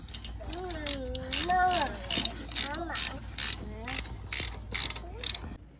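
A ratchet tightens brake caliper pins on a car's front disc brake, clicking in quick bursts up close, with metallic creaks and someone talking briefly over it.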